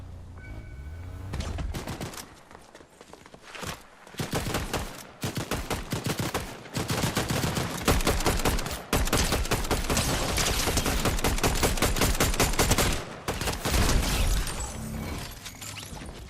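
Sustained automatic gunfire from the game Fortnite, loud rapid bursts rattling almost continuously for over ten seconds, with brief gaps and a few separate shots at the start and end, no voices.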